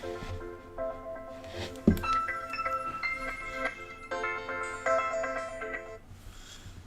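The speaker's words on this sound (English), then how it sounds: "someone's calling my phone" A phone ringtone plays an incoming-call melody of bright repeating electronic tones, steady and fairly loud with no talking over it.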